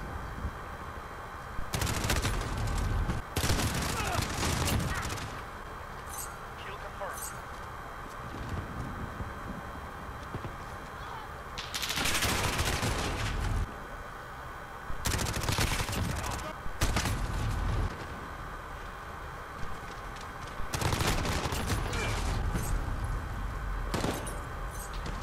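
Gunfire in a Call of Duty game: repeated bursts of rapid automatic shots, loud and close, separated by brief pauses with a steady background hum, and someone talks between bursts.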